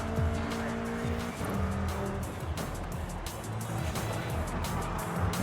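In Forza Horizon 5, a car skids as it crosses from dirt onto tarmac, its engine droning loudly while the tires squeal and scrub across the surface.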